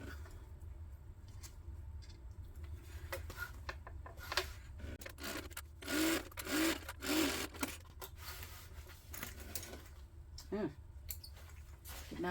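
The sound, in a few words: sewing machine basting fabric for a tote bag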